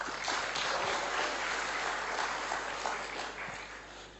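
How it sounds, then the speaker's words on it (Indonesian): Audience at a business success presentation claps for the speaker's family, a continuous wash of many hands at moderate loudness that fades a little toward the end. "Tepuk tangan buat mereka"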